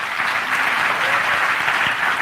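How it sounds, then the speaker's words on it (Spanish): Applause from an audience at a class session, honoring people who have stood up; steady, dense clapping from many hands, moderately near and sustained, with no talking over it. "Yo le quiero pedir que aplaudan a estas personas y a las demás."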